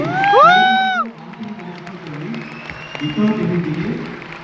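An audience at a live concert at Shilpakala in Hyderabad claps, opening with a loud voiced whoop, then settling into a rough, medium-level patter of clapping mixed with crowd voices.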